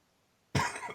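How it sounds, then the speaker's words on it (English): A single loud, close cough bursts out abruptly after a brief near-silence. "You got a cough?"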